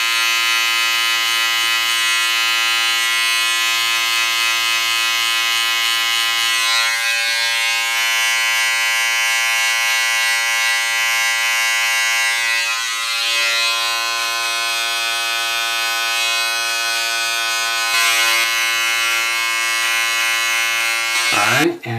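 Electric beard clippers fitted with a 1/2 guard buzz loudly and steadily for a long stretch, close to the microphone, with small shifts in pitch as they move over the beard.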